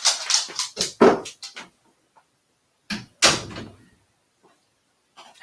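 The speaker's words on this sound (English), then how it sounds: "my dog just opened the door" A freshly shaved pet dog at a door: scuffing, thumping and rattling of the door in short bursts, with pauses of quiet between them.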